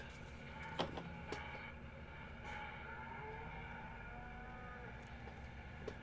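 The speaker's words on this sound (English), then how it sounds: "Why can you hear cows?" Faint cattle lowing in Farming Simulator 17 drifts over a steady engine-like hum, with a few soft clicks and knocks scattered through.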